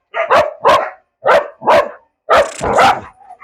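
An Egyptian baladi dog barks loudly and close by, giving about six sharp barks in quick pairs with short pauses between them, with no other sound around.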